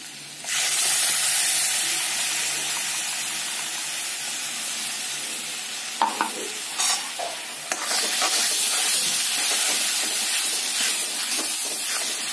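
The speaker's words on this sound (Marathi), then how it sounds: "याच्यामध्येच मी टोमॅटोची प्युरी करून घेतलेली आहे ती घालणार आहोत आपण." Tomato puree hits hot spiced oil with a loud, steady sizzle and hiss that runs nearly throughout, broken briefly by stirring scrapes in the middle.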